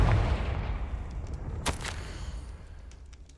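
A Confringo fire spell blast from the game Hogwarts Legacy bursts loudly at the start and rumbles away, followed by a sharper crackling burst around the middle that fades into a low tail.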